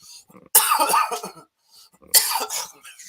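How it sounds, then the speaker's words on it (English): Two dry, rough coughs, each a short harsh burst, close to the mic with a brief pause between them. "Dry cough."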